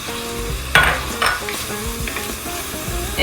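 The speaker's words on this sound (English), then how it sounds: "I'm gonna go ahead and add my tomatoes." Fresh tomatoes tumble into a pan of okra and sizzle steadily up close, with a couple of brief stirring scrapes and bumps over the constant frying hiss.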